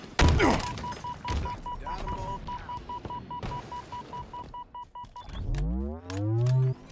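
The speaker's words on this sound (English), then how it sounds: "Grenade out." A grenade is thrown during a Halo Infinite match: a sharp thunk at the start, then a steady beeping tone, scattered game effects and a low rising boom near the end, with a voice briefly talking underneath.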